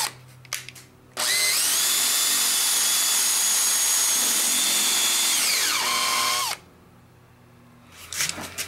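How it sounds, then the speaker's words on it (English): A power drill whines steadily for about five seconds while boring through plywood, its pitch dropping briefly near the end before stopping. "Drill holes through the plywood."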